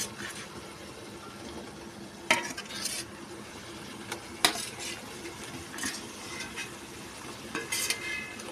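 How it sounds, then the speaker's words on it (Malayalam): Fried beef pieces tipped into a pickle masala in a pan for Kerala beef achar, with spoon scrapes and clatters against the pan over a low steady sizzle and a few sharper metal knocks. "ബീഫ് വറുത്തത് ഇതിലേക്ക് ഇടുകയാണ്."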